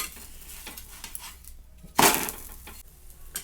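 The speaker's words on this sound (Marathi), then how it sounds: "तर बघा दोन्ही साईडनं छान असा खरपूस भाजून घेतलेला आहे मी" A pea-stuffed paratha roasts in oil on a pan, with faint sizzling, soft scraping and clinks from the spatula, and one louder metallic scrape partway through.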